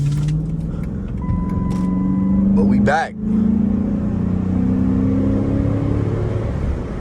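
A Chrysler 300 SRT8 engine hums and drones steadily while driving after exhaust repair, with a brief rev and a short pause; someone speaks briefly over it.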